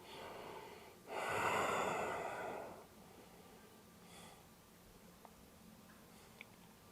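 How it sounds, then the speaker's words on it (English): During a yoga practice a single deep breath is heard close by: a long, airy inhale or exhale lasting over a second, followed by quieter breathing against a soft background hiss. "Big inhale, slow exhale."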